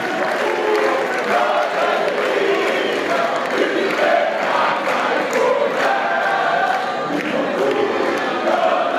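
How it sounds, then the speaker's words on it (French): Crowd at a school excellence-day celebration cheering and applauding as students parade, a continuous loud mix of shouts, clapping and chatter from many people close by. "S'il vous plaît, on acclame pour eux."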